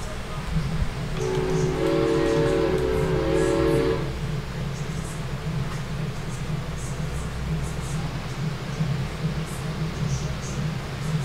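Trains in the Train Fever railway simulation game rumble steadily along with a sustained horn blast for a few seconds near the start, continuing under a game ambience hiss.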